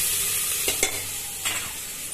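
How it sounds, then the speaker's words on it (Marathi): Ginger-garlic paste sautéing in a pan for mutton rassa, a constant close hiss of frying broken by a few quick scraping stirs, with no talking. "त्यानंतर आपण टाकत आहोत अद्रक लसूणची पेस्ट"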